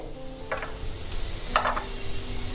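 Urad dal frying in hot oil in a pan, with soft sizzling and a few sharp crackles and stirring clatters over a low steady background hum.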